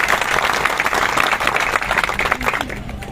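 Audience applause at a satsang closing a chanting ritual and yagna puja in Khalghat, Madhya Pradesh: a dense, steady patter of many hands, close and fairly loud, running unbroken for a few seconds.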